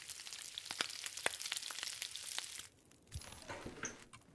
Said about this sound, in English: cook the rest of the meat